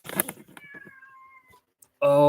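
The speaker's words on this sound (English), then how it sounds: "There's my sister's cat meowing." A domestic cat gives a couple of short, rising meows up close, followed by a thin, drawn-out whine, then a brief pause before a louder burst of noise at the end.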